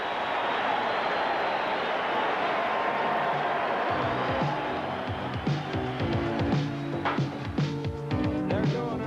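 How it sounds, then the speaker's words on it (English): A loud, steady arena crowd roar fills a basketball arena at halftime of a 1987 Lakers vs Sixers game; partway through, music rises above the crowd noise. "Listen to this crowd."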